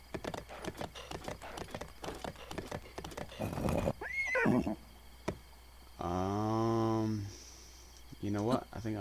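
A horse in a video game whinnies loudly and clip-clops, with a run of steady hoof beats followed by a long drawn-out neigh and a shorter one at the end, with a voice speaking.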